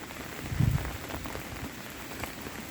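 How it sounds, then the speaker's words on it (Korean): Autumn rain falls gently and steadily, a faint hiss of drops on surfaces with one slightly louder patter early on. "가을비"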